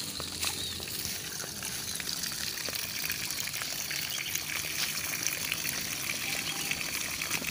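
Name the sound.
water gushing from tap pipe irrigation in guava orchard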